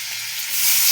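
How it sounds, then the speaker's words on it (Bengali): Potatoes frying in oil in a wok make a steady, bright hiss that grows slightly louder at the end, close and continuous with no voices. "এবার আলুগুলো ভাজতে দেওয়া হবে। কড়াইয়ে তেল দেওয়া হলো।"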